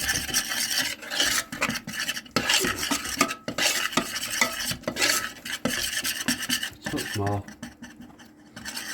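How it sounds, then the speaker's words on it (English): Flour being stirred into melted butter in a pan to make a roux, a close scraping and rasping of the utensil against the pan in uneven strokes, with a few brief spoken words. "Just sprinkle it in, stir it in to make the roux."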